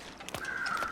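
A single crow caws in the wilderness of the survival game The Long Dark, one drawn-out harsh call standing alone and moderately close, with no talk over it.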